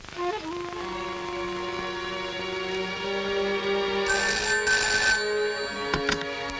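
A telephone rings steadily in an office scene, its bell tone sustained and fairly close, with a brief rattling burst partway through and no talk over it.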